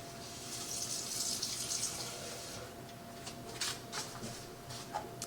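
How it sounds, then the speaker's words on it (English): Water runs steadily from a tap into a cup for a few seconds in a kitchen while cake batter is being made, a soft continuous hiss with small splashes and no voices. "I'm just going to add water"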